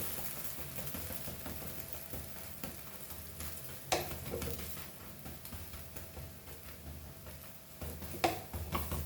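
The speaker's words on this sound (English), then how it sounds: "So nicely fry this, so it is nicely done both the sides." Egg omelette frying in a pan, a steady soft sizzle held at even level throughout, with a couple of brief louder clicks or taps from the pan near the middle and end.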